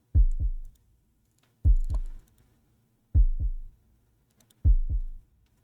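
Heartbeat in a pet shop horror game: four loud, deep lub-dub double thumps at an even, slow pace of about one every one and a half seconds, with near silence between.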